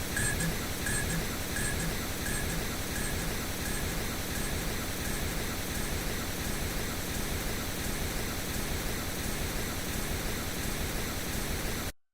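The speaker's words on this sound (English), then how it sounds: "pink noise." Steady broadband pink noise, loud and unchanging from start to finish, used as a reference signal while mixing and mastering a song, with no talk over it.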